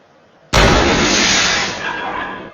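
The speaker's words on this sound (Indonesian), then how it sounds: "Suar pun ditembakkan ke udara oleh tentara SS." A flare fired into the air by SS soldiers in a film, heard as a sudden loud burst followed by a sustained hissing, roaring rush that slowly fades.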